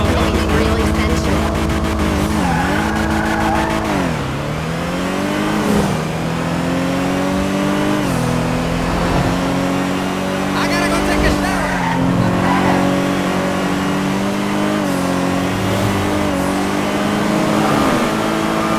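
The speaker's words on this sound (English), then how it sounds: "I honestly think it's a new sound in the game for a car" Chavos V6 car engine in the video game GTA, revving and accelerating through repeated gear shifts with rising and falling pitch, loud and continuous, with occasional tire squeal.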